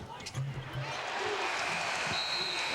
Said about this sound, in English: See the crowd here behind him.